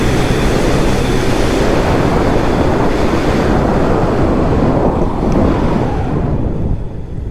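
Heavy wind noise roars steadily over the microphone as a 2022 Honda Grom motorcycle is ridden at speed, a loud, continuous rushing blast that covers any engine sound for the whole stretch.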